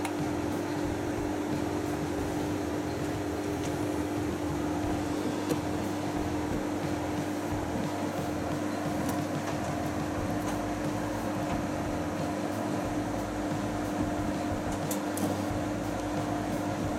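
A Hotpoint 9325 vented tumble dryer runs with a steady, continuous mechanical hum and whir of motor and fan. The sound holds even throughout, with no talking.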